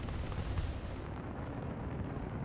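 Gunfire in a MiG-25 combat video game, a rough, rumbling stream of rapid shots that runs continuously and fairly loud from start to finish.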